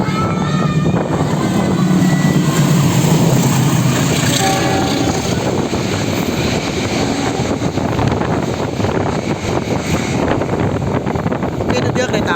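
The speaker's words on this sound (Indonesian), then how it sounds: "itu dia kereta api Logawa melintas langsung di stasiun Tarik, kecepatan penuh 120 km/jam" A Logawa passenger train roars through Tarik station without stopping at about 120 km/h, loud and close, a continuous rumble and rush of wheels with wind buffeting, with a brief horn note.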